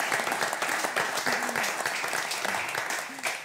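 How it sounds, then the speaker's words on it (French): A radio studio audience applauds Sarah after a won match, a dense, steady wash of clapping sustained throughout at moderate loudness, with a few faint voices rising through it. "On peut applaudir Sarah, vraiment, vraiment, vraiment."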